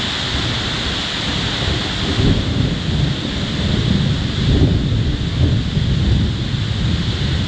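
Thunderstorm in Kuala Lumpur with heavy rain and wind, a loud, steady roar of downpour with low rumbling swells that rise and fall, no talking.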